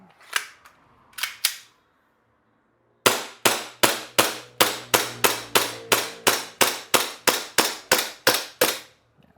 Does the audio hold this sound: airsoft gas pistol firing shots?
yes